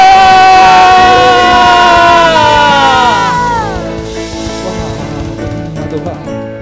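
Congregation at a Christian worship service shouting hallelujah together, a loud crowd roar of many voices that fades over several seconds.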